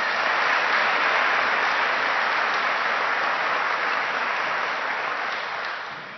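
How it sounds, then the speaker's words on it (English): Sustained applause from an audience at a college senior student-athlete award ceremony, an even wash of many clapping hands that holds steady for several seconds before tapering off at the end. "So we applaud her for that."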